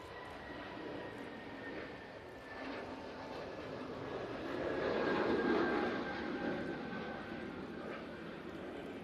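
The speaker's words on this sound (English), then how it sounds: "Gulf Air coming onto the runway now. 787-9 Dreamliner back off to Bahrain." A Gulf Air Boeing 787-9 Dreamliner taxiing onto the runway at Manchester Airport gives off a steady jet engine roar with a faint high whine, swelling slightly midway, heard from a distance.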